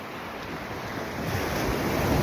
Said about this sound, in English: Feel the waves around you